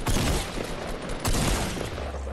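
Minigun fire in Fortnite Battle Royale, a loud dense rapid stream of gunfire in two sustained bursts separated by a brief dip, with no speech over it.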